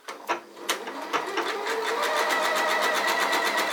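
A sewing machine runs a tight zigzag satin stitch at very short stitch length, starting with a few short bursts and then settling into a steady, fast, close-up mechanical whir with a regular rapid needle rhythm.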